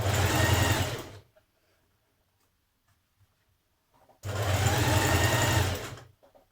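A sewing machine stitches a seam in stretchy jersey fabric, running loud and steady in two bursts of about a second each, separated by a quiet pause.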